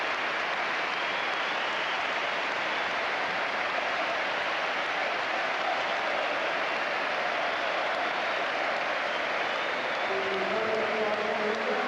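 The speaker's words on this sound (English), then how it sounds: "That's what you call a standing ovation." Football stadium crowd at an Arsenal versus West Brom Premier League match giving a standing ovation to a substituted player: sustained, dense applause and cheering fills the whole stretch at steady loudness, with no talk over it.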